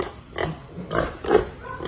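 A large 180-kilo farm pig grunts in a few short, low bursts, close by, with brief pauses between them.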